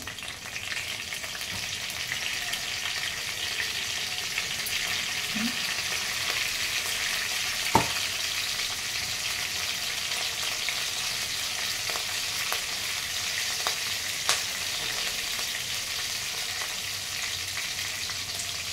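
Green chillies fry in hot oil with mustard and cumin seeds for a kichidi, giving a steady, dense sizzle that runs unbroken throughout, close and fairly loud, with an occasional faint clink of a utensil.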